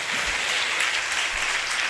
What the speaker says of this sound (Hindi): हाथों को हिलाइए। बहुत से लोग हैं और से ताली बजाकर प्रभु को धन्यवाद देते हैं